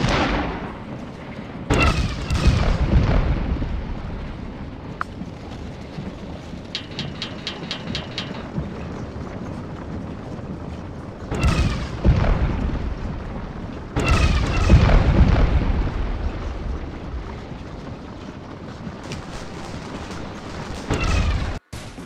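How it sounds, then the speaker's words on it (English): Cannon shell fire booms in the Scourge of War: Gettysburg Civil War strategy game, a few loud, spaced blasts rolling out over a continuous battlefield ambience. "I move a cannon to support our right in order to stop any Confederate advances with shell fire."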